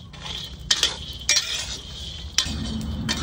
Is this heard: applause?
no